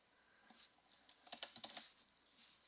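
A short run of quick, quiet clicks from typing on a computer keyboard, about a dozen keystrokes in an irregular rhythm, close up with no voices.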